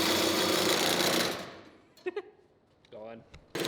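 A saw blade cutting through the welded side of metal body panels on an AWD four-rotor car build: loud, dense, rattling cutting that winds down after about a second and a half, followed by a few short metallic knocks and a brief burst as cutting resumes.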